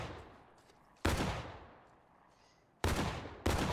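Musket volleys from War of Rights crack out three times: one sharp blast, a long reverberating tail, then two more close together, each an abrupt loud shot followed by a decaying echo.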